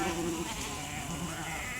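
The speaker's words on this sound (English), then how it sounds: "These little ewe lambs from this spring are growing so big." Sheep bleating at a farm in mid-August, with ewe lambs born that spring among the flock; a steady wash of overlapping bleats and flock noise, moderately near, with no talking.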